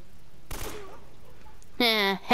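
A sharp burst of gunfire rings out in the Uncharted video game, followed a moment later by a short vocal sound from a person.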